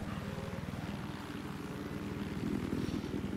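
A helicopter in the shooter Battlefield 4, its rotor chopping in a fast, steady, close beat with a droning engine, growing slightly louder toward the end.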